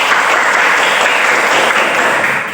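A classroom of pupils breaks into steady, dense applause, many hands clapping loudly and continuously before it tapers slightly at the end.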